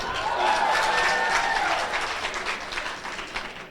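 An audience at a university vice-chancellor candidate presentation in Namibia breaks into sustained, fairly loud applause mixed with cheering, holding steady before gradually thinning out.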